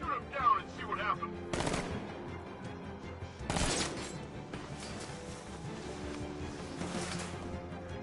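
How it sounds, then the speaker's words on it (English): Bursts of gunfire in the Batman: Arkham Knight video game, two sharp, loud volleys separated by quieter game ambience, with a faint rattle of further shots toward the end. "I'll shoot him down and see what happens."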